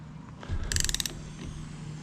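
A wrench torques a fitting on a winch, giving a brief burst of quiet ratcheting clicks close by, with faint mechanical shuffling before and after.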